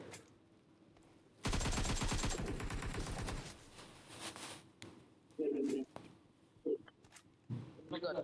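Automatic gunfire in the mobile game PUBG Mobile rattles out as one loud, rapid burst lasting nearly two seconds, followed by scattered single shots and softer game sounds.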